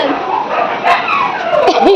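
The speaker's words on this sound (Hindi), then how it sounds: "2 कुत्ते इधर।" Several dogs bark and yip loudly at close range in a short burst, the barking mixed with people talking nearby.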